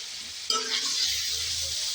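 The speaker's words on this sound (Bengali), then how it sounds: "ভালো করে নেড়ে মশলাটা কষিয়ে নেব" Spice masala of cumin, coriander, Kashmiri chilli powder, salt and turmeric fries in a pan, a sudden close burst of sizzle and one scrape of the spoon, then a sustained hiss with no speech.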